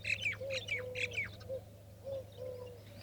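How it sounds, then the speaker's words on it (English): Birds squawk and chirp repeatedly in a relaxing outdoor setting, with duck-like calls in uneven bursts over a steady low hum, fairly close and without speech. "from the chirping birds and the ducks and the geese, and it sounds nice"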